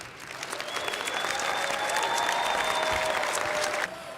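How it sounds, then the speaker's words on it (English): A room full of people at a family reunification ceremony claps steadily, the applause swelling and holding for several seconds before cutting off abruptly. "let's give them a round of applause"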